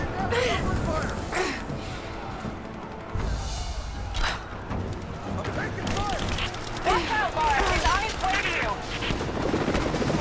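Gunfire in the video game Rise of the Tomb Raider, dense rattling bursts and thumps over a helicopter-like drone, loud and continuous, with a player talking over the action.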